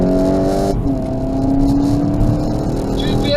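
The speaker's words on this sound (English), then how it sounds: "Two of the vehicles are driving off now." Several cars, including a Toyota Conquest and a Polo, pull away after a road rage incident, with steady engine hum and a rising rev that stays loud and close throughout, no talking.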